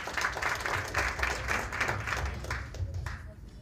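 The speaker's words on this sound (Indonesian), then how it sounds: "Tepuk tangan buat Hansel dulu" A podcast studio audience applauds Hansel, the claps ringing out clearly in a close, steady patter that thins slightly toward the end.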